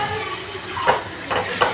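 Chopped tomato and prawns sautéing in a pan, a soft steady sizzle with a few light scraping stirs near the end.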